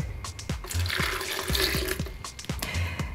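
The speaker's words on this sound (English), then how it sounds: "And then around 150 milliliters of water." Around 150 ml of water is poured into a chocolate shake with banana, a close, splashing gurgle of liquid filling the container with small bubbling pops, heard alone.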